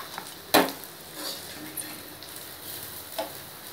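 Pirandai (adamant creeper) being sautéed in a pan, a sharp clatter of the ladle against the pan followed by soft, intermittent sizzling and stirring scrapes, fairly close.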